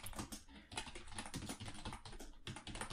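Code being typed on a computer keyboard, a quick run of crisp, close keystrokes in uneven bursts with brief pauses, quiet and alone.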